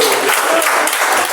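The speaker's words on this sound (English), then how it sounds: "Let's welcome with a thunderous round of applause the speech evaluator number 1" Audience applause welcoming a speech evaluator at a Toastmasters meeting, a loud dense burst of clapping filling the short moment on its own.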